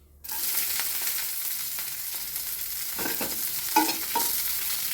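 Green chilies dropped into hot oil for a Kerala jackfruit dish, a sudden burst of sizzling that settles into a steady crackle, with a few sharp spatters and stirring scrapes, no voices.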